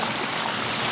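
Strong river current rushing steadily in a swollen monsoon river in the Konkan, a dense broadband roar of flowing water, close and continuous with no pauses.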